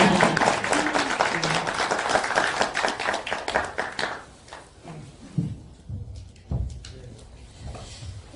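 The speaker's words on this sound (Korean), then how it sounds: "박수 한 번만 더 쳐주세요" An audience applauds in a burst of clapping that tapers off to scattered claps, with some talking as it fades.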